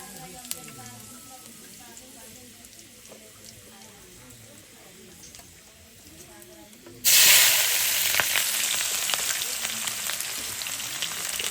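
Meat fries in a pan under low background noise, then a sudden loud, close, steady sizzle and hiss erupts as more goes into the hot oil and keeps going to the end.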